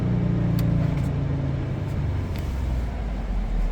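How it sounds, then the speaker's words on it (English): Engine of a 2024 Chevrolet Trax 2RS revving steadily, heard from inside the car as a continuous low rumble with a few faint clicks and no talking. "Look at that, accelerate a little bit there."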